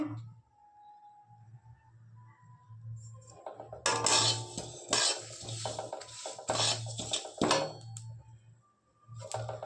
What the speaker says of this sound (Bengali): গরম কড়াইয়ের মধ্যে একটু ভেজে নেব এগুলো সব দিয়ে দিচ্ছি